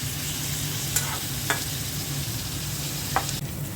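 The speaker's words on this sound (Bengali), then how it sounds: "পেঁয়াজটা হালকা ভেজে নিলাম।" Onions frying in a pan with shrimp, a constant close sizzle with a few isolated clicks of a utensil against the pan.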